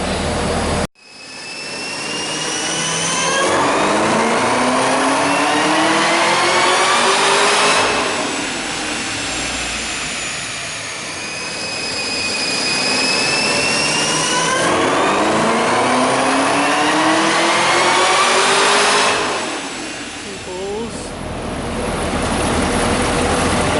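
A Chevrolet Camaro, stock apart from a Rotofab cold air intake, runs a baseline pull: the engine roars up through the revs in long rising sweeps, drops back, then climbs again, loud and close throughout.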